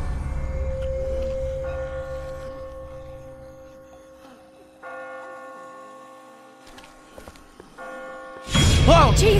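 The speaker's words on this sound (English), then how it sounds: "I just got spooked by those bells" Church bells toll in The Walking Dead video game, a few long sustained strikes ringing out and decaying, followed by a sudden loud burst at the end, with no talking over them.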